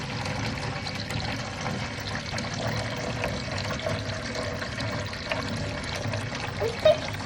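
Water poured out of a Halloween bucket into an eel pond makes a steady, fairly faint splashing trickle that runs continuously, with a small splash near the end.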